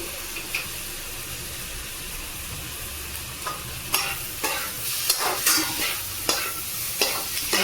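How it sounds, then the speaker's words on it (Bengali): Maggi noodles with soy sauce are tossed and stirred in a pan, bringing a steady close sizzle broken by repeated scraping, clattering strokes in an uneven rhythm. "করে নেড়ে চেড়ে নেবো একটু ভালো করে একটু টস করতে হবে"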